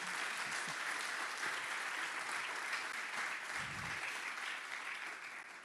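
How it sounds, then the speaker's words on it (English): An audience at the BlueInvest Africa conference opening ceremony in Seychelles applauds, dense sustained clapping filling the room at an even level before easing slightly at the end. "Give yourself a big round of applause."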